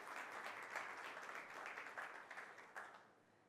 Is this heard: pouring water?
no